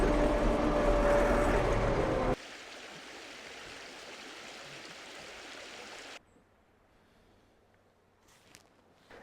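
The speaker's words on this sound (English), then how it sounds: "we're down by the creek and it sounds so nice with the water running and the birds chirping." Creek water runs through woods near an off-grid homestead, a steady rushing wash that is loud at first and then drops to a softer, more distant murmur.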